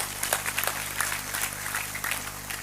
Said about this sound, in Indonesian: tepuk tangan untuk anak kita berdua